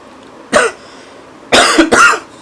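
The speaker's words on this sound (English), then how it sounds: "Sorry, I am having cough." One sharp cough, a short pause, then two more quick coughs close to the microphone, with quiet room tone between.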